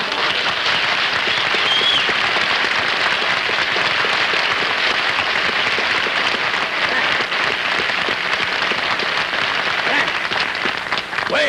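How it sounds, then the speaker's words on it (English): A studio audience at the Colgate Comedy Hour applauds Frank Sinatra with loud, sustained clapping that fills the whole stretch, and voices are heard under it. "Wait a minute, you didn't give me that much applause."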